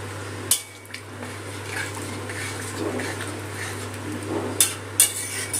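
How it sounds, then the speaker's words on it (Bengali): A spoon scrapes and clinks against a pot while potatoes are mixed with water and spices for a vegetarian aloo dum, with sharp metal knocks at the start and end over a steady low hum. "দিয়ে আলুর সাথে জলের সাথে মশলাটা সব কিছু মিশিয়ে নেব"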